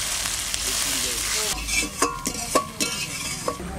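Bay leaf and whole garam masala spices (cloves, cinnamon, cardamom) fry in mustard oil for a vegetarian aloo dum. A loud sizzle comes first, then it settles into quieter frying with several sharp clinks of a utensil against the pan.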